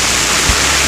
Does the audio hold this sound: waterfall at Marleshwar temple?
yes